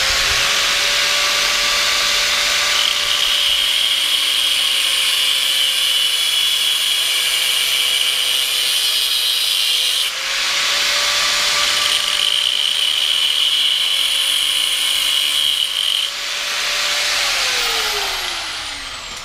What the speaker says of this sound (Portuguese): Com a lixadeira também.